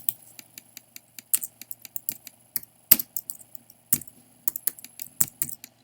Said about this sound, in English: Well, we are typing away.